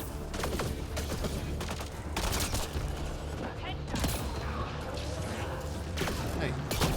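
Video game gunfire in Mass Effect: Andromeda sounds as repeated sharp bursts and short volleys over a background of mechanical clanks and rumble, fairly faint overall.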